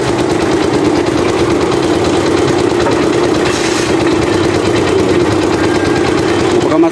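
Engine of an abaca fiber stripping machine running steadily, a loud, close, rapid chugging drone with an even mechanical rhythm that holds throughout.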